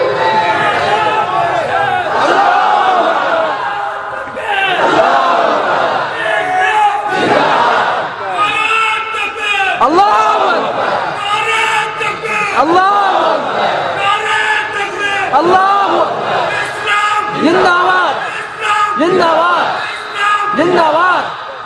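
A crowd at an Islamic religious gathering answers the call of 'Nara-e-Takbir' with loud, repeated chanted responses in rhythmic waves, each swelling and falling, close and forceful throughout.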